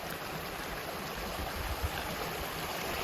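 A stream of water runs beside a wooded hiking trail, giving a steady broadband rushing wash at moderate distance, continuous and even with no voices.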